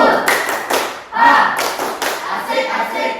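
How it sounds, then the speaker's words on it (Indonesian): Classroom group performing a rhythmic spirit clap, several bursts of unison hand claps and thumping taps in a patterned beat, close and loud, with faint voices mixed in. "Tepuk semangat."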